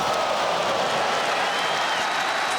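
Crowd noise in the WWE 2K25 wrestling video game, a steady, loud wash of cheering and applause from an arena audience, sustained without a break.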